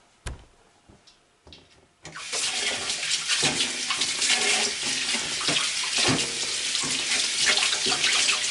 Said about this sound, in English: Just rinse the cloth.